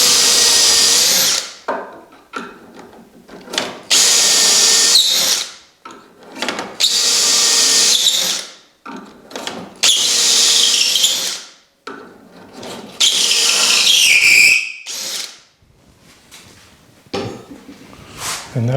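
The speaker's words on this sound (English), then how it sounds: "you have to drill in quite far, just approximately 4¼ inches to get a" Power drill boring deep dowel holes into the mitered rail of a wooden table top, loud close bursts of whining drilling and chewing through wood, each lasting a couple of seconds, separated by short pauses.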